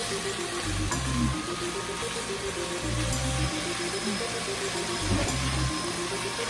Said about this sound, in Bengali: এইভাবে আমাদের ভেজে নিতে হবে পানিটা শুকিয়ে যাওয়া পর্যন্ত